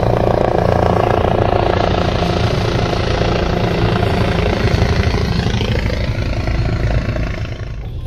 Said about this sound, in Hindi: हेलीकॉप्टर